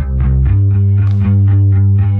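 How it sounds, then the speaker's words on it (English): Direct-recorded bass guitar with a wavy phaser effect, played in a live rock band session, with steady rhythmic plucked notes pulsing at an even pace, loud and heavy in the low end, heard alone. "new wavy phaser effect going on it."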